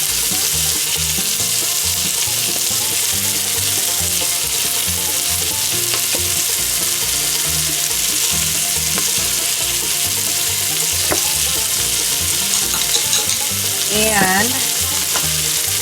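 Garlic fries in a pan with cumin, giving a loud, steady, close sizzle and crackle throughout, with a few clinks and stirring scrapes near the end.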